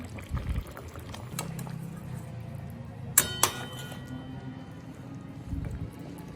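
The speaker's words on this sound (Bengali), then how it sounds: "সব শেষে আমি বেটে রাখা গরম মশলা একটু জল দিয়ে গুলে দিয়ে দিলাম" Ground garam masala paste thinned with a little water is poured into a simmering katla fish curry with potatoes, giving a soft liquid pour over low bubbling, with a couple of sharp utensil clinks midway.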